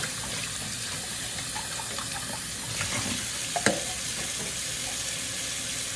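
Tap water runs steadily into a sink while baby bottles are rinsed and washed, a constant hissing splash with a couple of brief clinks of handling partway through.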